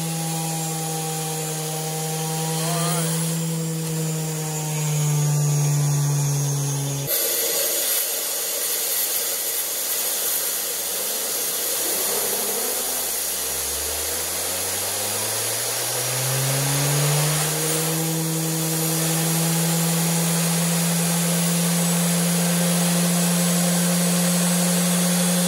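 A homemade Tesla turbine runs at full throttle on under 20 PSI of nozzle pressure, giving a loud, steady mechanical whine that drops sharply, sags low, then climbs back to a high sustained tone with no voices.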